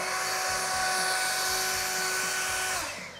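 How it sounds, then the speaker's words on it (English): A battery-operated leaf blower carried on a Peterbilt 536 hooklift truck runs with a steady, loud, high whine close by, then winds down at the end. "a leaf blower."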